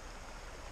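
Small woodland stream, a run once waded and crossed by family, flowing steadily as broadband water rush, continuous and fairly close with no voices.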